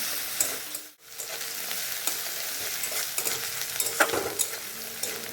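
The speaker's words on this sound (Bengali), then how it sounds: "ফোড়নটাকে নাড়াচাড়া করে নিচ্ছি" Black cumin, dried chilli and bay leaf tempering sizzles in hot oil in a wok while a spatula stirs and scrapes, giving a steady close fry with intermittent scraping clicks.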